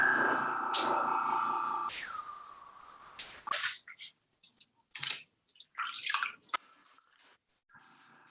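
Water being added to ceramic underglaze, with intermittent drips, splashes and squishy mixing sounds in short bursts, close and fairly loud, with brief pauses between.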